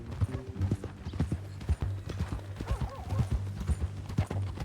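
Horse hooves clip-clop in a steady rhythmic walk on a dirt trail in the Red Dead Redemption 2 video game, moderately close, with ambient game sound and faint music beneath.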